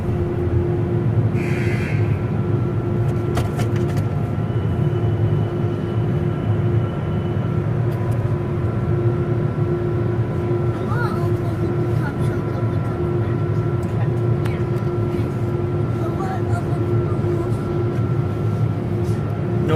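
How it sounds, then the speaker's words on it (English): Car wash blower dryers roar steadily inside a first-generation Ryko Radius car wash at a Chevron station, a loud continuous rushing drone with a faint hum running through it, with no speech. "Notice how the dryers are still running."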